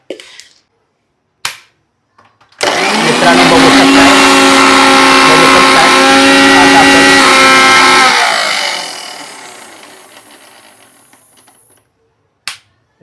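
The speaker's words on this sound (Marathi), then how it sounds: "मी हे आता वाटण बारीक करून घेतोय" An electric mixer grinds chili and garlic into a fine masala paste, its loud, whining motor running for about five seconds before spinning down, with a few sharp clicks before and after.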